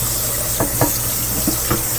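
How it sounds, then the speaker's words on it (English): Water is poured over food in a kitchen, a few short splashing gurgles over a steady background hum. "now you just have to put some water over the top of them."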